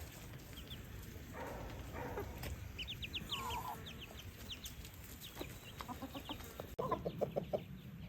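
Chickens cluck softly in short bursts over a murmur of outdoor background noise, close by and fairly quiet.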